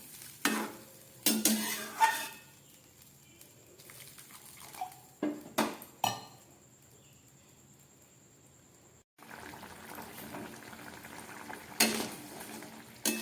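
Thin bata fish curry with young ridge gourd and potato boils in a pot. Scraping stirs and clinks come first, then a steady, soft bubbling simmer takes over.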